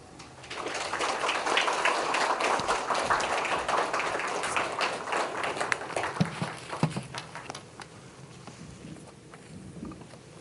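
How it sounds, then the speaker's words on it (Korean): A church congregation at a special dawn revival service claps its hands, a dense, sustained round of applause that builds quickly, holds, then thins into scattered claps, with faint voices beneath. "귀한 분 오셨는데 박수로 맞아주겠습니다."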